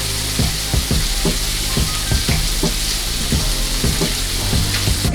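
Lamb chops fry loudly in oil in a pan, a dense continuous sizzle close by, with small repeated scraping knocks of a utensil moving them around and no talking.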